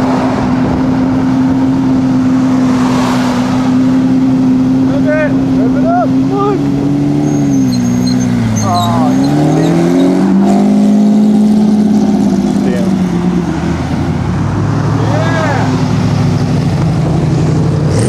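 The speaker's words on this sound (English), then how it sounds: "Rev it up!" A car engine revs loudly at the Monterey Car Weekend in 2007, its pitch rising and falling in repeated sweeps while people talk and call out nearby.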